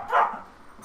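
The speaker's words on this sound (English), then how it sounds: "That was my dog going nuts." A single short, muffled dog bark comes from a little distance, followed by faint background noise.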